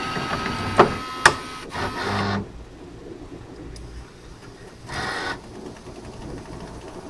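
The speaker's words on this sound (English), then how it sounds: "But the disc is scraping a bit." A damaged disc scrapes as it spins inside a player: two sharp clicks, then rough grinding bursts that come and go over a low steady whir, close and moderately loud.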